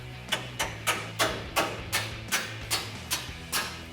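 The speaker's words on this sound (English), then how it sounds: "you can then tap the rest of it away in with a hammer" A hammer tapping a coil-over suspension part into place on a 2024-2026 Toyota Tacoma, about ten sharp metallic knocks at a steady, slightly quickening pace, close and clear with a light ringing tail after each strike.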